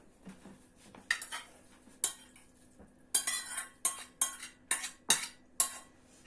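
Repeated clinks and scrapes of a metal spoon scraping mushroom caviar into a frying pan, a quick run of sharp strikes with short pauses between them, close by and with no talking.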